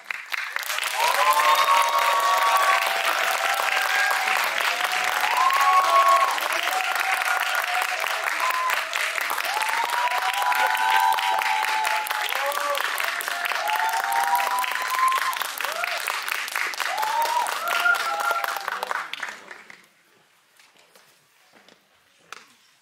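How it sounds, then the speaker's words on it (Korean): A crowd at a special guest-visit screening event for the Korean film Yadang applauds as the guests enter, sustained dense clapping with some cheering for about nineteen seconds before it abruptly stops. "오늘의 게스트분들 큰 박수로 맞이하겠습니다."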